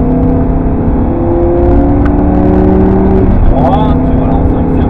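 An Audi R8 V10 runs on the Castellet racetrack, its engine droning loud and steady from inside the car before the pitch sweeps up as it accelerates near the end.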